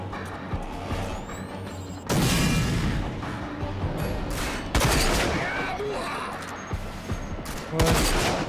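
Gunfire in the video game RAGE, several loud blasts and crashing bursts at intervals, each followed by a rumbling tail, with someone speaking between them.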